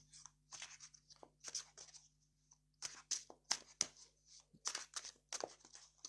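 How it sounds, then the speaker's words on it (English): Reading cards are shuffled by hand in irregular bursts of crisp, close slaps and riffles with brief quiet gaps between them, and no voices. "Let's shuffle these cards."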